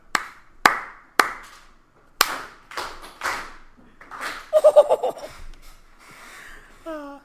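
A teacher's claps in a classroom measurement lesson: several sharp, separate slaps spaced irregularly, then a few quick rhythmic claps among chuckles and brief voices.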